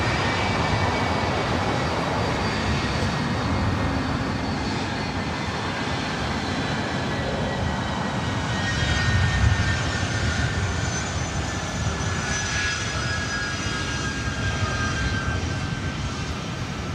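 A 27-year-old Delta Boeing 757-200 jet at LAX, bound for Boston, gives off a loud, sustained engine roar with a whining tone and deep rumble, close by and steady throughout, with no talking.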